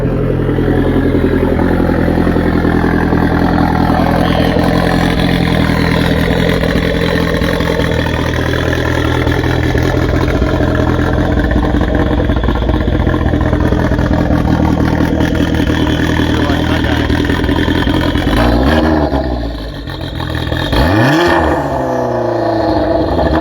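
Polaris Pro R side-by-side with a turbo kit runs its engine at a loud, steady idle close by, with a brief dip and a short rev toward the end, no talking.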